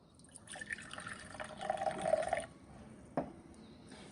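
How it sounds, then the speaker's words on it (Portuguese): A little water poured for a sand and water demonstration trickles and splashes softly for a couple of seconds, followed by a brief clink, faint and close in a quiet room. "Então eu vou colocar um pouco de água"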